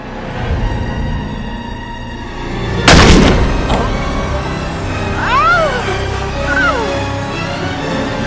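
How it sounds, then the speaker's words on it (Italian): A single loud gunshot rings out in a TV drama scene, a sharp broadband crack with a short decay amid background music and room ambience, followed later by faint chirping tones. "Hai sparato a Enrique e ora lui è morto."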